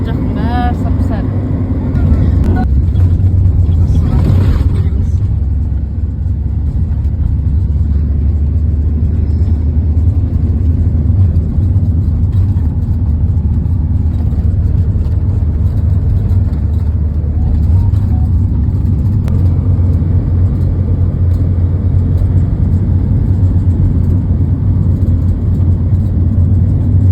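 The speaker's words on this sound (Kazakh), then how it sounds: "Ағам машинасына отырып алдым." Steady low engine drone and road rumble from inside a moving car, loud and continuous throughout, with a voice talking briefly near the start.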